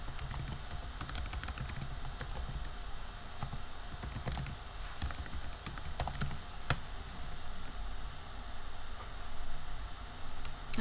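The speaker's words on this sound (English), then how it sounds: "And you want to type in the name of your business." Rapid clicking keystrokes on a computer keyboard, close and fairly quiet, in irregular bursts over a faint background hiss.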